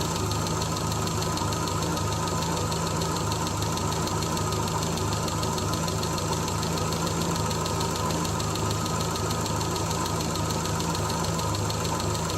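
A 1975 Triumph Spitfire 1500 engine runs steadily at idle around 700 rpm, a constant low rumble with a faint rhythmic knock, close by and unbroken, with no talking.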